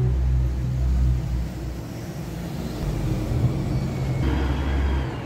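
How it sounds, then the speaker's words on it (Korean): Traffic near the railway station park in Vicenza, Italy: a continuous rumble of passing cars and buses, low and heavy, swelling and easing as vehicles go by, with no speech over it. "차들이 쉴 새 없이 다녀서 소음이 발생하지 않을 수 없어요"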